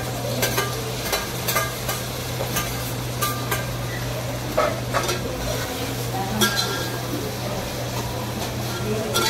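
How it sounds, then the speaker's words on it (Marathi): Onions frying in a pan for pav bhaji, a low continuous sizzle punctuated by sharp utensil clinks and scrapes against the pan, close and moderately loud with faint talking in the background. "कांदा चांगला हलका हलका लाल गुलाबी रंगावर फ्राय झालेला आहे"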